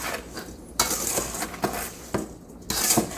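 A spoon scrapes and clinks against a bowl while sugar is stirred over berries to dissolve it, giving a steady run of close metallic taps and scrapes with several sharper knocks.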